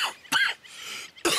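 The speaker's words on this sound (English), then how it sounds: "It's quite a cough." Arthur Morgan, sick with advanced tuberculosis, coughs in Red Dead Redemption 2: three harsh, rasping coughs in quick succession, the middle one drawn out and wheezy, close and fairly loud.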